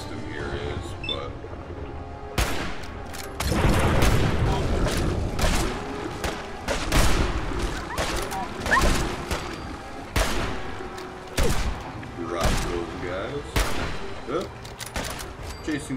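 Gunfire in Fallout 4 crackles in repeated sharp bursts across the scene, with loud close shots over a rumbling game backdrop while a player talks over the action.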